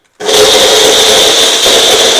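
A kitchen mixer grinder starts abruptly and runs at full speed blending a milk-based mixture, a loud steady high whir with a constant motor hum, alone and close.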